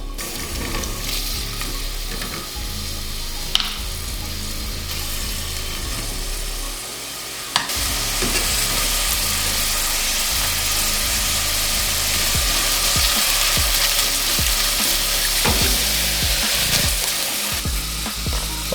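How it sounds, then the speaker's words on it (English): Onions sauteing in about two tablespoons of olive oil, a steady close sizzle that swells louder and brighter partway through after a sharp clink, with occasional stirring scrapes and a low background hum. "We're going to start with the onions, sauteing the onions first."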